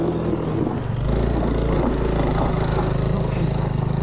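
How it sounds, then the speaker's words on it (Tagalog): Motorcycle engines labour loudly and continuously up a steep dirt road under construction in Benguet, a rough low drone with shifting revs filling the whole stretch. "Ayan na po, katumba-tumba na yung mga motor."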